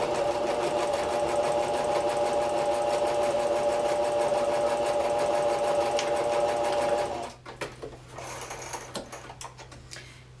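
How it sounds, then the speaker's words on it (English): Sewing machine with an all-purpose presser foot stitching a quarter-inch seam in quilt fabric, a steady close mechanical whir with a fast ticking needle rhythm that runs for about seven seconds, then stops, leaving faint handling noises. "And we're gonna sew that together."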